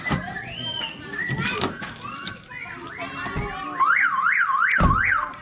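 A Toyota Vios car alarm sounds with short chirps and then a rising-and-falling warbling siren toward the end, loud and close, with children's voices and chatter mixed in earlier.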